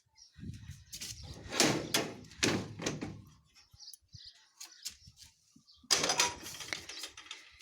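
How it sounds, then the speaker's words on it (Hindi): A mesh screen door in a house in Siroli, Pauri Garhwal, rattles and creaks as it is opened, with scraping, knocks and clatter up close, quieter ticks between, and another burst of rattling near the end. "यहाँ पर भी हम लोगों ने जाली वाला दरवाज़ा लगा रखा है।"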